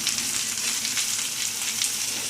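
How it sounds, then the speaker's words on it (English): Onion, slit green chilies, ginger and garlic sauté in a hot pan with a steady, dense sizzle that runs evenly throughout, close and fairly loud, with no voices. "I'm going to saute it for a while."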